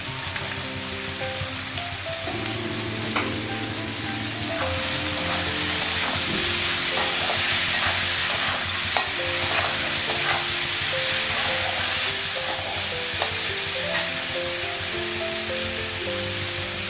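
Chili powder and ginger paste fry in a pan for a Bengali cauliflower-potato dish, a continuous loud sizzle with scraping stirs that grows fuller after a few seconds and holds steady.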